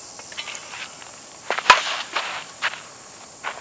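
A DeMarini senior baseball bat, with only about 25 to 28 swings on it, cracks against a ball during batting practice. There is one sharp hit near the middle and a few softer knocks and thumps around it.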